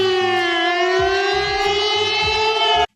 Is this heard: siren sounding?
yes